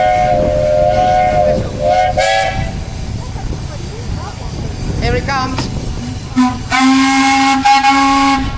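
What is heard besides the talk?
tugboat steam whistle on steam engine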